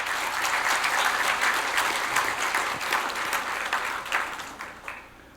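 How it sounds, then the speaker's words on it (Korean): A seated audience applauds at a Korea-US alliance conference and gala dinner as a presenter comes to the stage, a dense, steady clapping that holds for several seconds before thinning out and fading toward the end. "네, 박수 부탁드립니다."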